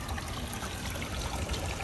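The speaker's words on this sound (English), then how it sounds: "we could hear the water underneath here" Hot spring water flows and trickles underneath a display spring, a steady close rushing gurgle with no talk.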